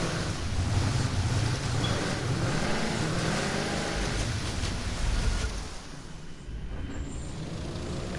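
A boat engine in the video game The Crew 2 drones over rushing water and wind noise, loud and continuous, easing off somewhat near the end.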